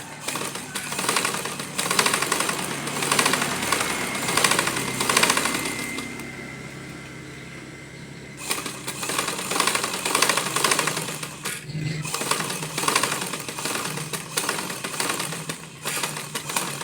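A sewing machine stitches a straight shirt seam with a steady, fast mechanical whir. It runs in two long bursts separated by a short pause, close and continuous, with no talking.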